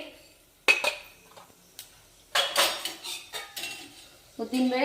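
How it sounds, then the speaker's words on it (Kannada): Chana dal and urad dal are tipped into a pan with cumin for pepper lemon rice, heard as sparse, close clinks and scrapes of a spoon against metal, with short gaps of near silence between them. "ಇದಕ್ಕೆ ಕಡಲೆಬೇಳೆ ಹಾಕ್ತಾ ಇದ್ದೀನಿ. ಕಡಲೆಬೇಳೆ, ಆಮೇಲೆ ಉದ್ದಿನಬೇಳೆ"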